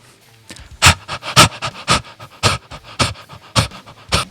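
A person imitates a dog, panting in quick, loud, rhythmic breaths about twice per second, close to the microphone, as a singing breathing exercise.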